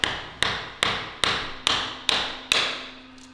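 An elderly farmer chopping wood for a stove, seven sharp evenly spaced strikes about every 0.4 seconds, each ringing briefly before the next, close and loud with no talking.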